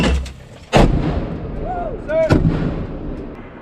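Artillery guns fire during a live-fire training exercise, the US–South Korean Warrior Shield drill: two loud, heavy booms about a second and a half apart, each with a rolling tail, with brief shouting in between.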